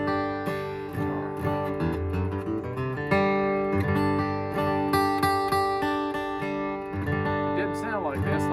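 A 1936 Martin D-18 acoustic guitar rings out in a steady stream of picked notes and strummed chords, with clear sustained tones and no voices over the playing.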